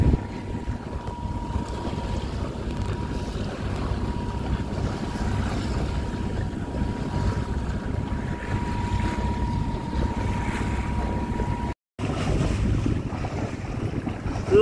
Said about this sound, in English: We are sailing to Anegada.